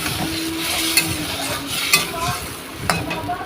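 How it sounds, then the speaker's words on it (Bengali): A frying fish curry sizzles in the pan as it is stirred, with a few distinct spatula scrapes over a continuous bubbling hiss. "এবার পরিমাণ মতন জল দিয়ে দেবো"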